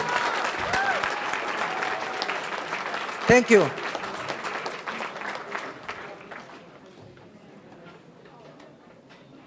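A crowd at a union labor rally in Chicago applauds loudly, the clapping swelling with a brief spoken thanks over it before gradually fading away.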